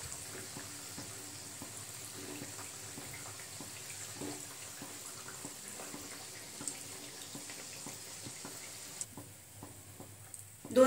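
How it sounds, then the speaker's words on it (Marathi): Samosas deep-fry in oil over medium gas until crispy on both sides, giving a steady, soft, close sizzle with small crackles throughout, which drops quieter near the end before a clatter. "दोन्ही बाजूनी आपण क्रिस्पी असा तळून घ्यायचा आहे"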